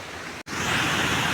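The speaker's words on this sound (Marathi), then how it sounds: "पाण्याचा फ्लो कमी वाटतोय" Water rushing over a weir near the Siddheshwar waterfall, a steady loud broadband roar that cuts out for an instant and then resumes.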